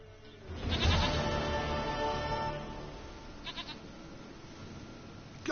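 A goat bleats in The Witcher 3, a loud, drawn-out cry rising near the start and fading over a few seconds, followed by a couple of softer short bleats over quiet game ambience.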